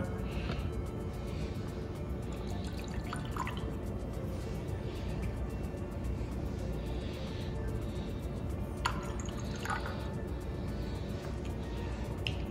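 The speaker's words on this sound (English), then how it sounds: "And we're going to add some DI water." Deionized water poured into a lab beaker, a steady trickling and dripping pour running throughout at moderate level, with a few brief clinks of glassware.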